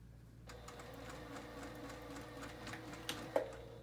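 A domestic sewing machine back stitching a ruffled shoulder seam on a Jasmine dress, running in a steady close whir with a few sharper ticks near the end.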